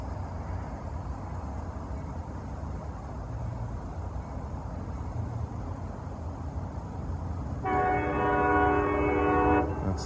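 A CSX freight train rolls past a road crossing with a steady rumble of rail cars, then a loud train horn blasts near the end, no talking over it.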